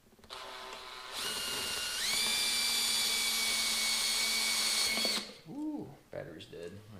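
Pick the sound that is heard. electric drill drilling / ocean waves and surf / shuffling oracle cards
electric drill drilling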